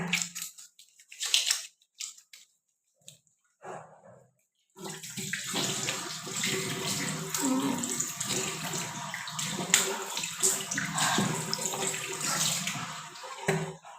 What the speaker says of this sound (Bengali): আমি সাবান দিয়ে ভালো করে হাতটা ধুইয়া লই।